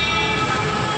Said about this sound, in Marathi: बघू शकता मित्रांनो, वरती मेट्रोची पटरी आहे।